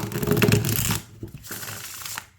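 A deck of tarot cards with light lamination is shuffled by hand close up, a quick papery riffle burst followed by softer slides and taps of the cards.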